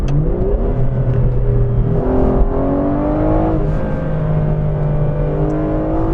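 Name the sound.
Aston Martin Vanquish V12 engine revving while driving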